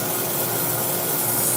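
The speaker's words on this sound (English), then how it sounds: "Less sanding is required at this point because it's getting smoother." Sandpaper rubbing against a piece of wood spinning on a lathe, a steady, dense broadband rasp that holds at an even level throughout, close by with no voices.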